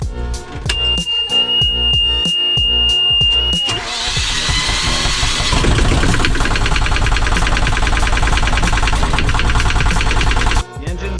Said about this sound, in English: let the engine run a little bit longer to see how it goes